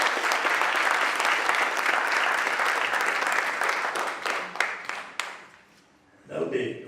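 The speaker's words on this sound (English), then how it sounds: "let's give them another resounding round of applause" A large crowd at an inter-school debate applauds loudly and steadily, then the clapping thins out and fades, and a voice begins speaking at the end.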